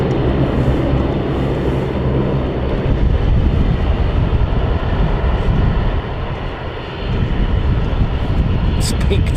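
A Luxair airliner in a special livery at London City Airport makes a loud, continuous engine roar that holds steady for about nine seconds, dipping briefly before rising again, close by.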